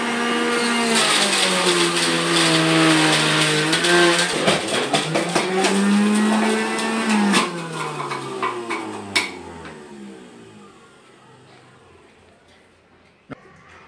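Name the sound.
electric juicer juicing carrots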